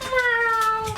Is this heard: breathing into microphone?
no